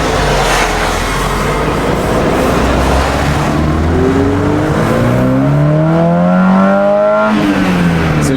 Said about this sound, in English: I'll do a 1-2 red line first and second.